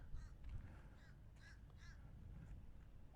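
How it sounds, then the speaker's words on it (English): A crow caws several times in a quiet residential street in The Villages, Florida, the harsh calls spaced irregularly and fairly faint over low background hum, with no one speaking. "there is a crow right on Frimpter Place"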